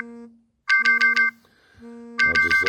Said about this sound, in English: I'll just let that phone call just run out.